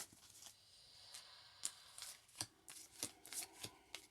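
Tarot cards are drawn and shuffled from a deck during a reading, giving faint, close, dry papery slides and soft flicks in irregular clusters, quiet and alone.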